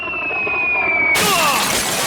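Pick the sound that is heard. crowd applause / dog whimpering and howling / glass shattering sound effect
glass shattering sound effect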